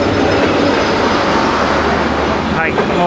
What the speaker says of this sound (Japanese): すげえ電車。